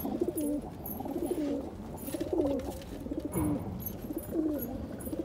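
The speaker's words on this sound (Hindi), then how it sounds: "तो गाइज ये है कबूतर।" Pigeons coo again and again in throaty, rolling phrases, close and clear over a steady outdoor background hiss.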